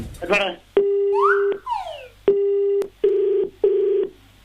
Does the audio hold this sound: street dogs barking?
no